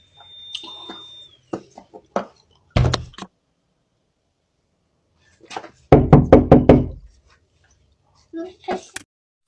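A front door with a Ring doorbell camera is knocked on in two clusters of sharp, close raps, with quiet spoken voices between them.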